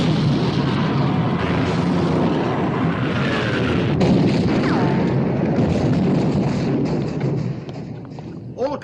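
Warship guns firing in a film sea battle aboard the Bismarck, a dense continuous rumble of booming thuds and crashes with sweeping tones, fading toward the end.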